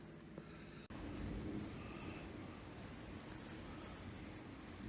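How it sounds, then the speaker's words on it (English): Heavy rain pours outside, a steady broadband hiss and wash at low volume, broken by a brief dropout near the start before resuming evenly. "it is pouring outside"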